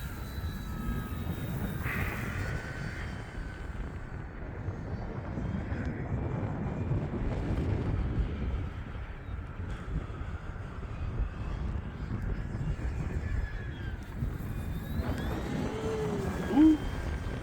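E-flite T-28 1.2 m RC model airplane on a 4S 3200 battery in flight, a continuous motor drone with shifting pitch as it passes, mixed with wind rumble across the whole stretch.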